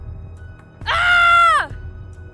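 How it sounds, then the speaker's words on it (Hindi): A girl lets out one loud, sustained scream of fear, a horror-story sound effect that rises sharply, holds for under a second and cuts off, standing alone over a quiet background. "रिया अब पूरी तरह से डर चुकी थी। वह चीख पड़ी,"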